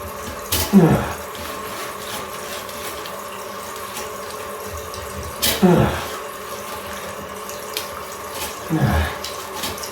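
A toilet in a house under renovation flushes and gurgles in three short watery surges a few seconds apart, over a constant rushing background noise.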